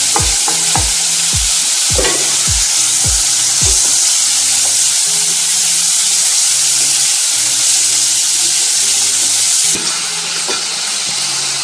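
Chopped onions fry in a pan for chole, Odia style, with a loud, steady sizzle and hiss throughout, punctuated early by several sharp stirring scrapes, then continuing as constant close frying.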